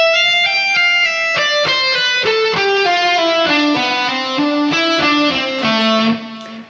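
A slow electric guitar legato lick, smooth connected notes stepping downward across the strings, played alone and sustained with a clear ringing tone that cuts off near the end.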